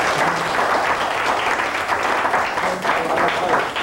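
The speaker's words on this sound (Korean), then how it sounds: "수고하신 저분에게 박수를 보내드리십시다" Audience applause at a Korean TV program for a family finishing a smoking-cessation school, steady dense clapping throughout with a faint voice mixed in.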